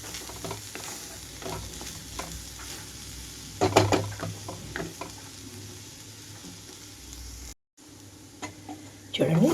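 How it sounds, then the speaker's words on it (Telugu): Ivy gourd with green chillies frying in a pan, a steady close sizzle with stirring scrapes and a few louder clatters, continuing after a brief dropout near the end. "పచ్చిమిరపకాయలు పచ్చిగా వేసాను కాబట్టి 2 నుంచి 3 నిమిషాల పాటు ఇలాగే ఉంచి వేయించుకుంటున్నాను"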